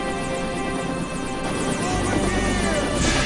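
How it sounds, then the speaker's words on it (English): Helicopter in the Resident Evil 3 video game, a loud close rotor chop with rhythmic beating and engine whine, growing heavier toward the end and mixed with game sounds. "Over by the massive fucking helicopter, come on!"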